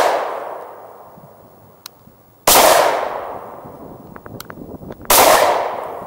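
Two loud, sharp shots from an HK VP9 pistol ring out at a range a few seconds apart, each followed by a decaying echo. Faint clicks and rattles of handling the gun come between them.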